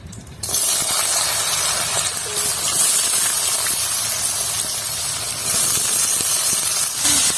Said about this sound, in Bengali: এবার আমি গাজরটা ভেজে নিচ্ছি।